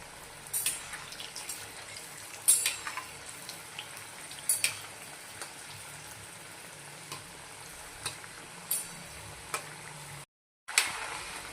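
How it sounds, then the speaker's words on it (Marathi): Dal batti frying in oil over medium heat, a continuous soft sizzle and bubbling with occasional sharp pops and crackles, then a brief moment of silence near the end. "मध्यम आजीवर आपले हे बट्टे आहे ते चांगल्या तळून घ्यायचे आहे"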